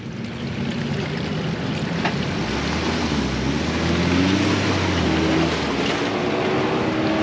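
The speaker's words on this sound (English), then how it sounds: "I'm gonna try first gear. We just got like a wall of mud we're plowing right now." A Jeep engine straining and revving in first gear as it plows through a thick wall of mud, a loud continuous drone with rising and falling pitch, close up and alone without talk.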